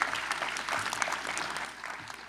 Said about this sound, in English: Give yourselves a big round of applause out there.